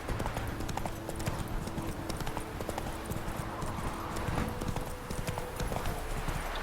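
Steady clip-clop of horse hooves at a walking pace along a road in the video game Witcher 3, close and continuous, with no talking over it.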